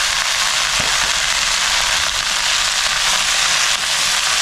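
Chopped red spinach hitting hot oil with lightly browned garlic in a pan, giving a loud, steady, dense sizzle and crackle with no pause.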